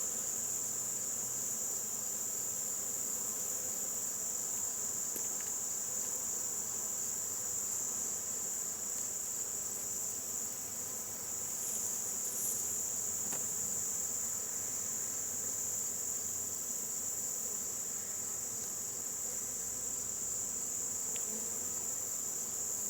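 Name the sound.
honeybees buzzing at hive entrance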